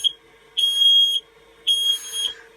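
Smoke alarm inside a campervan sounding two long piercing electronic beeps, close and loud, with a steady low hum underneath.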